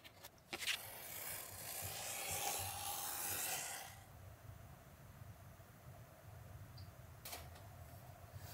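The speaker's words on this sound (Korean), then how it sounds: "이제 도안에 맞춰 재단을 해줍니다" Goyard coated canvas cut along a paper pattern, heard as a steady close rasping slice for several seconds, then quieter with a couple of brief scraping taps against faint room noise.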